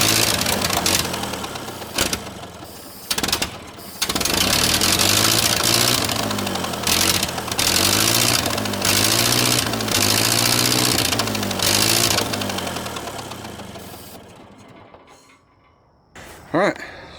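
A Ford 8N tractor engine running with a big exhaust leak, loud close chugging and puttering with uneven knocking pulses, dropping out briefly, then fading toward the end.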